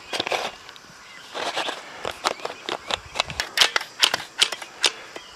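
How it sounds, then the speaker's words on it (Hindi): A sealant gun being unloaded and its fitting tightened during a van roof panel build, a series of sharp close clicks and ratcheting snaps with brief scraping between them. "इसकी गन को हम लोग पीछे करके अनलोड करते हैं और यहाँ पे इसको टाइट करते हैं"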